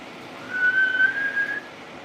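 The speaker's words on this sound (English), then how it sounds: "it's the loudest wind I've ever heard" A strong typhoon wind in the Philippines whistles at night with a thin, steady high-pitched tone that rises and sustains for about a second over a low background rush.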